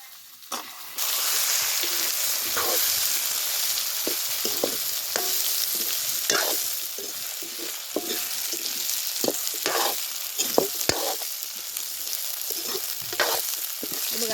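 Moringa drumsticks stir-fried in a pan with browned masala: a constant close sizzle broken by repeated scrapes and clacks of a spatula turning the pods, steady throughout with no voices.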